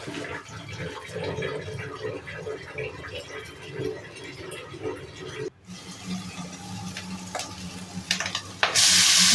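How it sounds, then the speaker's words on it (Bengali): Fenugreek greens frying in a wok with garlic, black cumin and dried chilli: a steady close sizzle with stirring scrapes throughout, then a brief cut and a louder hiss near the end. "মেথের শাক ভাজা করছি।"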